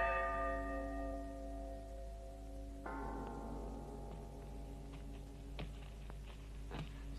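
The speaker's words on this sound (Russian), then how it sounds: "А в то утро еще крутили пластинки с погребальным звоном колоколов." Funeral church bells tolling from a played record sound as a single ringing strike that decays, then a second strike at mid-clip, followed by faint clicks and taps in a quiet room.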